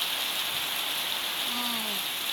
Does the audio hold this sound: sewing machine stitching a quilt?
no